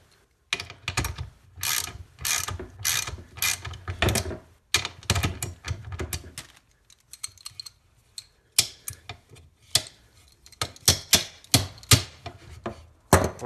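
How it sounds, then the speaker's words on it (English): A 1/2-inch ratchet tightens a new power window motor onto the carrier assembly of a 1973-87 GMC truck, producing close bursts of rapid clicking, with pauses between runs. "take your 1/2-inch and retighten the new motor"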